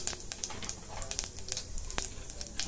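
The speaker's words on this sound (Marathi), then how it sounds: "आता जिरे आपले चांगले तडतडले।" Cumin seeds in a spoonful of hot oil in a pot crackle and pop in quick, irregular bursts over a soft, continuous sizzle, all fairly faint.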